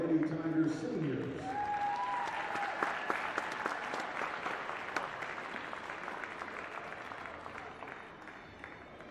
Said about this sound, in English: Another big round of applause for our Lady Tigers seniors.